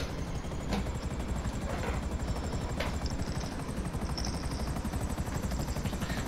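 A helicopter in Grand Theft Auto V gives a loud, continuous rotor chop with a rapid, even pulse, with brief clicks and faint game effects over it and no talking.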